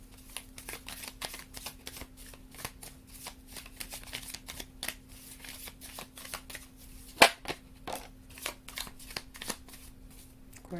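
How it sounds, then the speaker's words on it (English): A small deck of Psi oracle cards is shuffled close by in a steady run of soft riffling and flicking over a faint constant hum, with no talking. "Let's pull some Psi cards."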